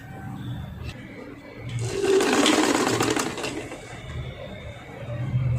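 Sewing machine stitching a plunge blouse, running in a short whirring burst of a couple of seconds amid quieter room sounds and faint voice.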